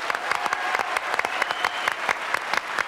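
Studio audience applauding on a French television variety show, dense steady clapping with sharp individual claps standing out, close and sustained throughout.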